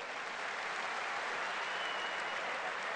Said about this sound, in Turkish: Öğretmenlerimizi defalarca alkışlıyoruz tabii.